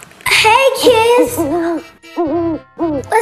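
An owl hooting in a children's cartoon: a string of about five clear, close hoots with short gaps between them, each with a bending, voice-like pitch.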